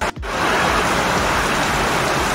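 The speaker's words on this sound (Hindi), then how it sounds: "बहुत ही जोर से बारिश हो रहा।" Heavy monsoon rain pours down on a rooftop during flooding in Jharkhand, a dense, loud, unbroken hiss of downpour after a brief dip at the start, with no talking.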